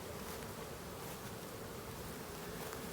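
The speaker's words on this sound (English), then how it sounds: "Yeah, they are not happy bees." A dense, agitated swarm of bees at an airport roars in a steady, loud buzz with no pauses, filling the whole stretch with no voices.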